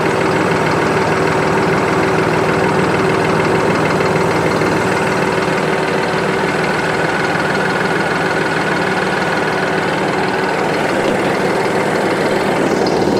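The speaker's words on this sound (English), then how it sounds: "get you a listen to that motor" A Deutz-Fahr 5080 D Keyline diesel tractor engine idles steadily and loudly up close, a constant low chugging drone with no voices.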